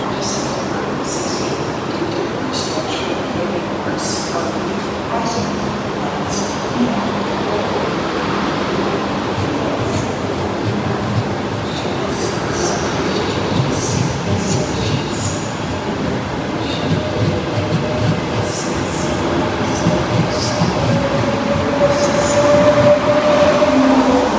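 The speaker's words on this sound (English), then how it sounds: "here is the Trenitalia Fresarossa train leaving Rome Termini heading towards Naples" A Trenitalia Frecciarossa high-speed train pulls out of Rome Termini station bound for Naples, its loud steady rumble and rail noise building gradually, with clicks, squeals and station echoes throughout.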